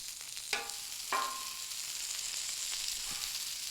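Bacon cheese smash burger patties flipped on a 28-inch Blackstone griddle, steady close sizzling broken by two sharp spatula scrapes and clacks as the patties turn over.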